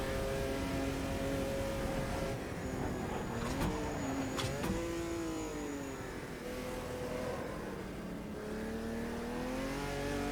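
A Group C race car in Automobilista 2 drives through a chicane, its engine note rising, dropping under braking and climbing again through downshifts, a steady close drone with no talking.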